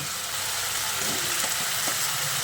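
Fried potatoes tipped into a pan of well-cooked spiced masala for Bengali rohu fish curry, giving a steady close sizzle with a few soft stirring knocks.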